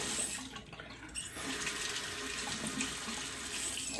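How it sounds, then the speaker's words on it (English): Tap water runs steadily into a sink while a Schick Injector razor blade is rinsed under it, a close continuous splash with brief shifts as the blade moves through the stream. "I'm gonna rinse the blade with the tap from here on"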